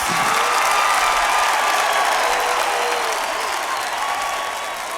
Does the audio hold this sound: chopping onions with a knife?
no